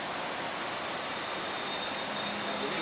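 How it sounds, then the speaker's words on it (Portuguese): A zipline cable whirs steadily on a tirolesa ride, a continuous broadband rushing hiss that stays even and close throughout. "Olha o som do cabo"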